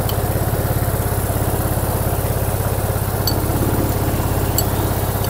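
Yamaha Mio Sport scooter with hard-starting trouble idling noisily, a close, loud, steady rapid putter with an even pulsing rhythm and no speech.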